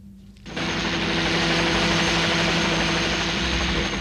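A helicopter in flight kicks in abruptly and holds a loud, steady rotor-and-turbine roar close by, with nothing else heard over it.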